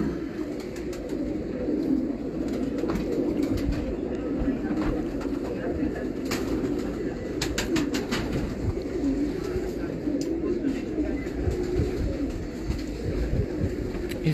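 A champion-bred pigeon coos repeatedly in low, throaty rolls close at hand over a steady background murmur, with faint voices and sharp little clicks scattered through.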